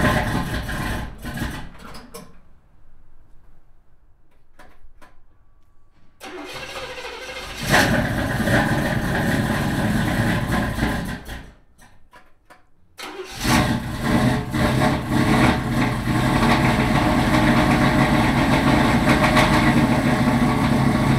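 A Z28 Camaro small-block V8 with new cam and heads starts and settles into a loud, lumpy idle close by, cutting out and restarting between stretches of quieter rumble.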